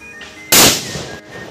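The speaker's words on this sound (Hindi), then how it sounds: "कल मैंने बम सब पटाखे से सब फोड़ दिया है" A Diwali firecracker bursts in one sharp, loud bang that trails into a short rumbling decay, with a faint tonal hum before and after.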